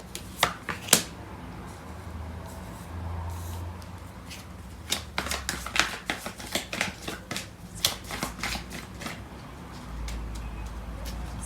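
Tarot cards being shuffled and drawn by hand, a string of sharp riffling snaps and flicks in irregular bursts, close and fairly crisp over a quiet room hum.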